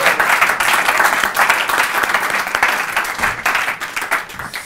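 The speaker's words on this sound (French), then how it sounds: "Mon cher Paul, tu viens de gagner à l'applaudimètre du public" A crowd at a French candidate contest applauds loudly, many hands clapping in a dense, lively burst that holds strong and then slowly eases toward the end.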